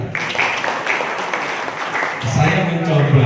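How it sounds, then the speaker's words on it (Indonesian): An audience applauds at a motivational talk, a dense, steady wash of many hands clapping throughout, with a voice rising over it near the end. "Tepuk tangan."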